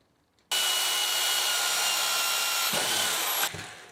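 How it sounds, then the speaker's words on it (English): A power drill whines steadily at high speed for about three seconds, loud and close, drilling a 5 mm hole in metal, then winds down and stops. "We'll drill in a 5-metre hole."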